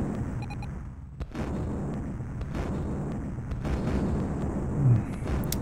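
Units in the Amiga version of Dune 2 firing on a defensive turret: a steady rumble of game combat with repeated muffled blasts and booms, plus a louder burst near the end.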